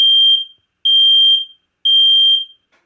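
A Nest Protect smoke alarm in test mode sounds three loud, piercing, identical beeps, each about half a second long, separated by short silences.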